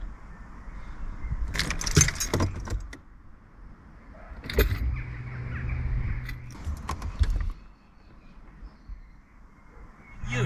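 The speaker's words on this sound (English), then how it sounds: "I'm going to turn the car off and on" Keys jangle in short metallic bursts as a Mercedes SL is switched off and back on, with a low electrical hum and faint clicks of the car powering up between the rattles, close by with no talking.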